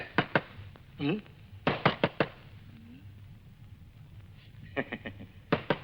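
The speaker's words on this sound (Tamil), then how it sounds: "கதவு தட்டுற சத்தம் கேட்டுக்கிட்டே இருக்குது" Knocking on a door, several bursts of two to four sharp raps spaced out by pauses, close and crisp, with a brief voice and a faint hum between the knocks.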